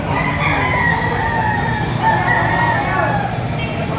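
Bull stag roosters at a rainy outdoor market in Padre Garcia, Batangas, crowing and clucking amid dense crowd noise and traffic, loud and continuous with people talking throughout.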